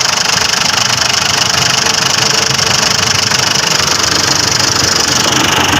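A 2010 Ford Everest engine running after an ECU replacement, a loud, steady idle with a constant mid-pitched hum and slight knocking, continuous and close throughout.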